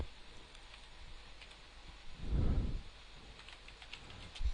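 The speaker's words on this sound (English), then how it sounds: "Now where I'm typing now is where you type the body of your post." Soft, rapid clicking of a computer keyboard is heard as someone types a blog post, quiet and close, with a brief low thump partway through.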